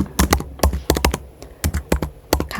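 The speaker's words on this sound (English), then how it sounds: "Inside of the text box, feel free to type anything like" Keys on a computer keyboard are typed in quick irregular clusters of crisp, close clicks with short gaps between bursts.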